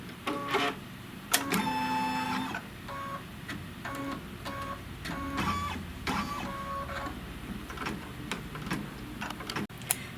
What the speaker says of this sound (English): I'll just go ahead and let it stitch this heart